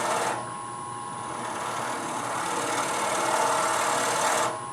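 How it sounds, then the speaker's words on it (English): A shallow fluted gouge hollows out a wooden scoop, producing a steady continuous whirring cut that starts and stops abruptly and holds an even level throughout. "Start hollow it with my shallow fluted gouge."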